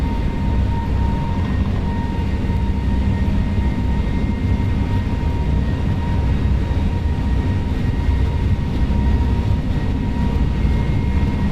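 Jet engines of an Airbus A321neo at takeoff thrust on departure from New York JFK, a steady loud roar with a constant whine running unbroken throughout, with no speech.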